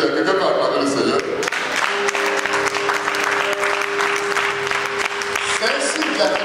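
A church congregation breaks into loud, sustained applause and cheering, a dense wash of clapping with voices mixed in, steady for several seconds.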